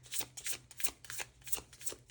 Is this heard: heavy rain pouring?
no